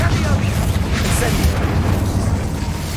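Confringo fire-spell explosions in the Hogwarts Legacy video game boom in a dense, continuous barrage, loud and rumbling for the whole stretch, with a voice underneath.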